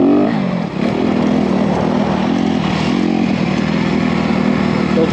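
A 2021 Honda CRF250R dirt bike engine runs loud and close, holding a steady revving drone on a first ride with no pauses.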